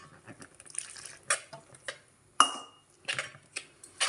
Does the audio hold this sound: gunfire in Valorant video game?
no